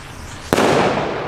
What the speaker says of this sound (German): Und eine Rakete irgendwo.